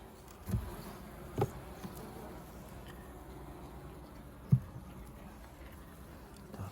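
Honey bees at an opened hive, where queens are held in isolator cages, give a faint, steady insect hum close by, broken by a few soft knocks of handling and no talk.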